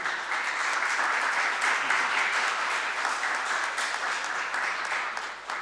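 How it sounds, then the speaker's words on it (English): Steady applause from a crowd, a dense wash of clapping that stays even throughout. "This is the applause for the team."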